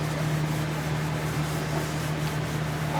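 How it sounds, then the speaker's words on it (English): Oil finish rubbed heavily onto a wooden eucalyptus bowl, likely spinning on a lathe, giving a steady close rubbing hiss over a constant low motor hum. "I want to rub some of this stuff liberal, very heavy."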